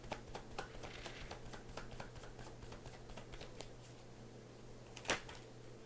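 Tarot cards shuffled by hand, a quiet run of soft rhythmic riffling snaps over a low steady hum, ending in one sharper tap.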